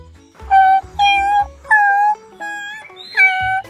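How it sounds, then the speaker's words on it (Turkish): Stray dog in a video game whimpering and howling in five drawn-out, tonal wails with short gaps between them, loud and close. "Sahipsiz bir köpek."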